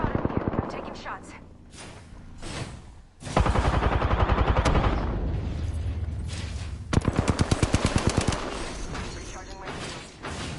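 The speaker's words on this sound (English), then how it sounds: "Opening fire. Fire." Video game gunfire in rapid automatic bursts, loud and close, with stretches of dense repeated shots and mechanical clatter, while a voice speaks intermittently over the action.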